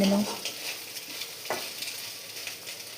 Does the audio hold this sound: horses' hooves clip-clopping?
no